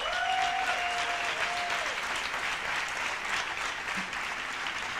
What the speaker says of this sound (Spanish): Pido un aplauso muy grande para Zaida Escobar.